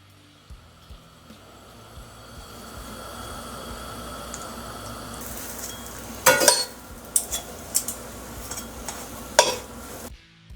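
Buns toasting in salted butter in a pan that started cold, a soft rising sizzle that grows steadily, then sharp scraping and clinking bursts from a utensil moving them around, with no voices.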